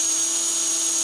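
Tail servo on a Walkera 4G6 RC helicopter buzzing erratically, a loud, steady high-pitched electric whine heard close up with no voices.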